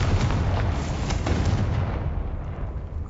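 Confringo spell blasts in the Hogwarts Legacy video game roll out as heavy, continuous booming explosions that rumble for a few seconds before thinning and easing off toward the end.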